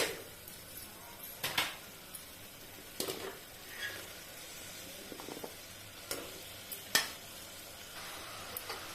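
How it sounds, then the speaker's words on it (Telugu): Cluster beans curry with green chili paste being stirred in a pan, with a faint steady sizzle and several distinct scraping, clinking strokes of a utensil against the pot, spaced unevenly. "దీన్ని బాగా కలుపుకుందాం"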